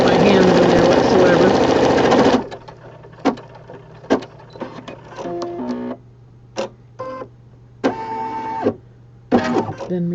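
A home embroidery machine works a 4x4 St. Patrick's Day pot-of-gold rainbow design, a loud continuous stitching whir that stops abruptly, followed by short clicks, handling knocks and brief mechanical bursts.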